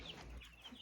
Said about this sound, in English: Over here we have some of these chicks that I bought at Rural King for a whopping 50 cents a piece.